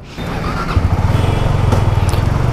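A Benelli motorcycle engine runs close by after a service, starting with a rising note and settling into a loud, rapid, regular thrumming pulse.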